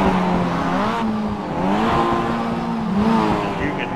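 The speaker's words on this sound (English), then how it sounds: "They're really, little four cylinders really wound tight." A Mazda MX-5 series race car's little four-cylinder engine revs hard and high, the pitch climbing and dropping through tightly wound gears in a loud, continuous wail, joined by some tire squeal.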